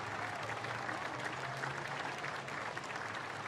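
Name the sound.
crowd applause at Anzac Day parade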